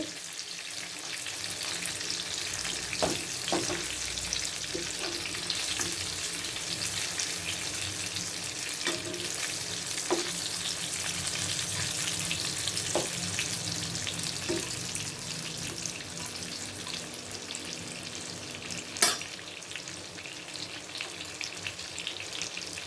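Ribbonfish marinated with lime fries in oil in a pan, giving off a steady, dense sizzle for the whole stretch. A few soft clinks and one sharp knock break through the hiss, and nobody speaks.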